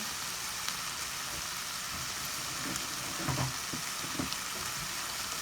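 Chicken adobo sizzles steadily in a pan after vinegar goes in, a close, continuous frying hiss broken by soft scrapes and knocks of a utensil stirring the meat.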